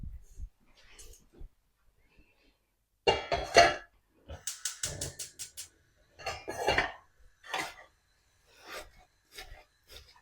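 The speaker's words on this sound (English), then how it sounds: "So I'm just going to put this on the stove." Pan set down on a stove and stirred during festive cooking, with scattered metallic scrapes, knocks and clinks in short bursts, fairly close and moderately loud, separated by quiet gaps.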